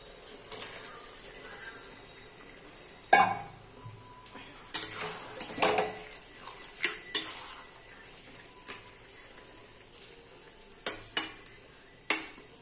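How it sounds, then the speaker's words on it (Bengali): Chicken pieces go into a pan of cooked-down spice masala and are stirred, with a steady low sizzle of frying under sharp scrapes and clanks of a spoon against the metal pan, close and intermittent. "এবার আমি চিকেনগুলো দিয়ে দিচ্ছি।"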